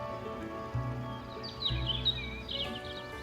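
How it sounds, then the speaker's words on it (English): Birds warble and chirp outdoors in a Goddess of Victory: Nikke cutscene, with a few bright, moderately close calls over a soft ambient background. "The warbling of birds that were actually there, not some sound coming from a speaker."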